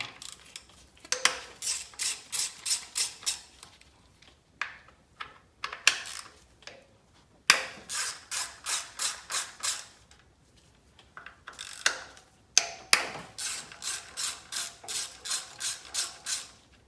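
A ratchet with an extension undoes ignition coil bolts on a 4th-generation 2.0L Toyota RAV4, giving quick runs of sharp, evenly spaced clicks in several bursts separated by short pauses, close and clear with no talking.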